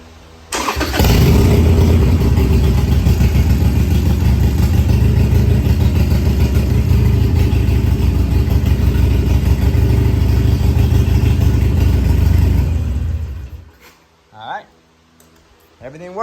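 Harley motorcycle engine cranking and catching, then idling with a loud, lumpy low rumble for about twelve seconds before cutting off, followed by a few brief voiced sounds and quiet.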